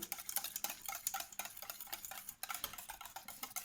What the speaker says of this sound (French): on remélange bien comme il faut